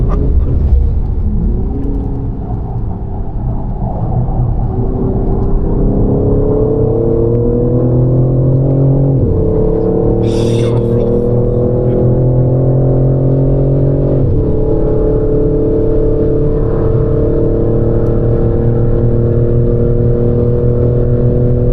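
A BMW M3 Competition is driven hard on the Nordschleife, its engine a steady, loud in-cabin drone that climbs in pitch through the revs with sharp breaks at each gear shift and no talk over it.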